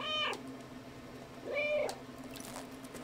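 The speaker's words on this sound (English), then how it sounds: "Just meow once." A cat meows twice in the video game Stray, two clear, close meows about a second and a half apart over a faint steady background hum.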